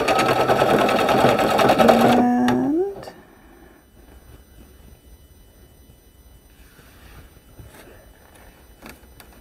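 Embroidery machine fitted with a DIME sticky hoop stitching the next thread color, a loud rapid mechanical chatter for about two seconds that winds down with a rising motor whine, then quiet room noise with faint handling sounds.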